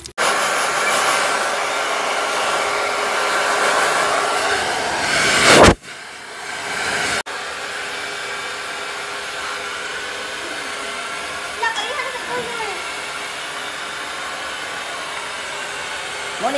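A wireless blower roars loudly and steadily, cuts out abruptly, restarts briefly, then settles into a quieter continuous whir.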